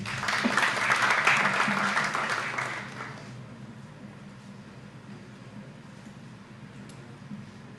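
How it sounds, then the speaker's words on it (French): Applause at a formal ceremony greets the chargé d'affaires of Japan, swelling for about three seconds and then fading into quiet room tone. "Sous vos applaudissements, s'il vous plaît"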